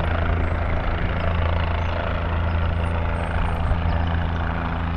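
A helicopter hovers overhead, about to land near a campground in Olema, California: a steady, loud rotor and engine drone that holds without a break, with no talk over it.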